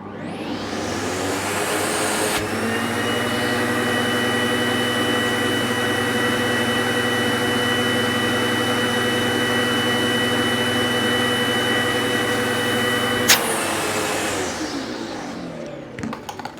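A Sebo X7 vacuum cleaner rated at 890 watts switches on and runs at a steady, loud, whining roar for about eleven seconds, then shuts off and winds down.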